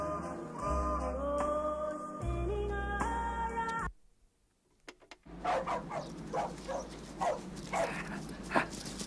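Two dogs, Judy and Prince, yip, whimper and give short barks in a home before a walk. The sounds come in quick, excited bursts after a musical passage cuts off and a brief silence.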